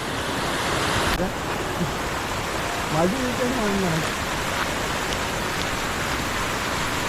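A stream rushes steadily and fairly loudly throughout, and a voice briefly speaks over the flowing water partway through.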